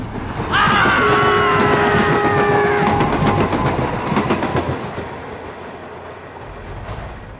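A train sound effect in a Bengali horror audio story: a loud horn blares over rumbling wheels, followed by rhythmic clattering on the rails that fades as the train passes, with no voices.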